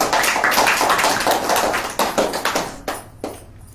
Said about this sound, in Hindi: तो ताली बजा दीजिए तब